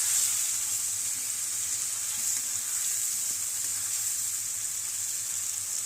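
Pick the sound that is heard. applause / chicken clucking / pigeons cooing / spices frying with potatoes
spices frying with potatoes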